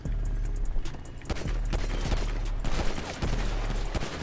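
Rapid automatic gunfire bursts from a GTA roleplay shootout, dense fusillades of shots running nearly continuously throughout, loud and close.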